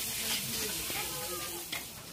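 Spices sizzle and hiss in a hot pan, a steady crackling fry with people talking over it.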